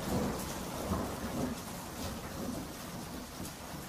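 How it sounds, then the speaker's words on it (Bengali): A heavy downpour with thunder fills the scene, steady broadband rain hiss under low, rolling rumbles that swell and fade; no voices are heard. "আর সাথে সাথেই তুমুল বেগে বৃষ্টি শুরু হয়"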